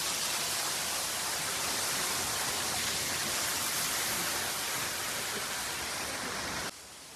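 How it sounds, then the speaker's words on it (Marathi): Near the Gagangiri Maharaj math in Khopoli, a waterfall pours with a steady, dense roar of rushing water, even and unbroken throughout, dropping slightly in level at the very end. "किती छान आहे ना धबधबा."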